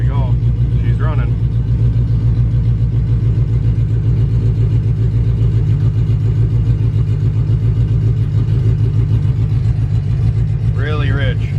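A Honda Civic Si with a swapped B18C1 engine and Precision turbo, running rich, idles with a steady, loud, low rumble throughout, while a voice speaks briefly at the start and end.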